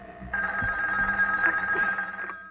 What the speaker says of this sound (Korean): 그때 테이프 속 앤디에게 누군가 전화를 걸어왔는데요.